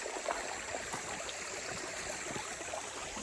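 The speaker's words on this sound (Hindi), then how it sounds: "बहुत दिनों बाद रिलैक्सिंग झरने के पास।" A small waterfall in a clear creek near a cave-like passage rushes and splashes steadily throughout, a continuous close wash of falling water with no voices.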